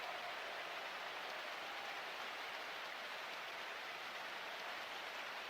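Steady rain hisses in an American football video game, a uniform, faint wash of falling water with no breaks and no voices.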